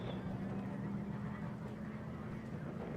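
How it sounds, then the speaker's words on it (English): A land speed race car runs on El Mirage dry lake after leaving its push truck, its engine a steady, muffled, distant drone with a low hum, while people talk faintly over it. "That's a quiet engine."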